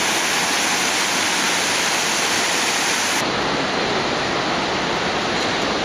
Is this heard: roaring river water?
yes